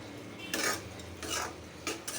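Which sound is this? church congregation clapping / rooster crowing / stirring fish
stirring fish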